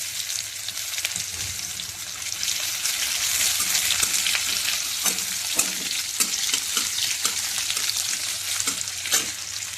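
Onions fry in hot oil with a bright, steady crackling sizzle, punctuated by occasional stirring knocks in a close, continuous stretch without talk.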